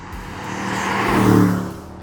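A 2025 Aston Martin Vantage 665hp engine revs up, its growl swelling to a peak, then eases back down, loud and close with no one talking.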